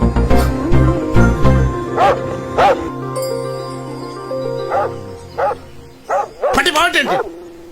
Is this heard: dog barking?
yes